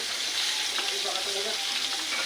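Milkfish (bangus) fries in hot oil, a steady close sizzle and crackle that holds evenly throughout, with faint background voices.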